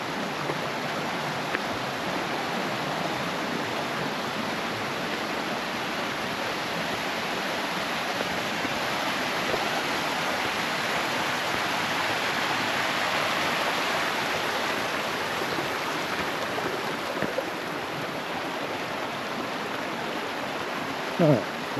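Steady rushing water pours continuously from Paradise Falls in the Bighorn Mountains, a dense even roar close by with no voices over it.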